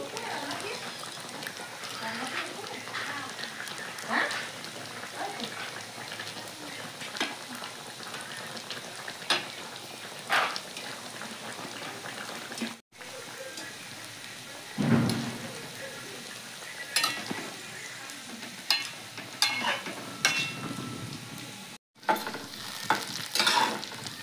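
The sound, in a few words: fish frying in a pan while a curry boils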